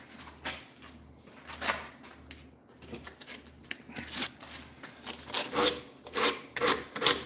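Rough sandpaper rubbing along the edges of a turned wood piece, producing a steady series of close, scratchy rasping strokes in an uneven rhythm that grow somewhat louder toward the end.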